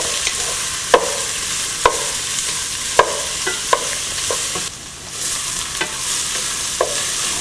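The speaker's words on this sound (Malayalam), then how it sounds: "നമ്മൾ കട്ട് ചെയ്ത് വെച്ചിരിക്കുന്ന സവോള, ആവശ്യത്തിന് ഉപ്പ് എന്നിവയിട്ട് മീഡിയം ഫ്ലെയിമിൽ വഴറ്റിയെടുക്കുക" Sliced onions with salt sauté over a medium flame for beef peralan, a steady frying sizzle broken by sharp spatula scrapes and clinks against the pan at regular intervals, close and clear with no voices.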